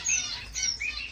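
Pet finches in a bird room fill the air with a dense, continuous chatter of high squawks and chirps, many birds calling at once at close range.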